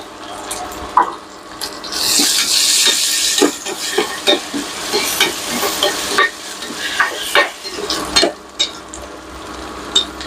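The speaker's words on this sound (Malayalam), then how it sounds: "നമ്മുടെ സവാള മൂത്തിട്ടുണ്ടെങ്കിൽ നമുക്ക് ഇഞ്ചിയും വെളുത്തുള്ളിയും കൂടെ ചതച്ചിടാം." Onion sautés in a hot pan with crushed ginger and garlic, the loud sizzle swelling when the aromatics go in and then settling into a steady frying hiss punctuated by repeated scraping and clacking stirs.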